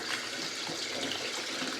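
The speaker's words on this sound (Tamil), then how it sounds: "இதை நீங்கள் தண்ணி விட்டு வாஷ் பண்ணிட்டீங்கன்னா" Tap water running steadily into a sink while fresh crab is washed, a soft constant splashing gush with no voices.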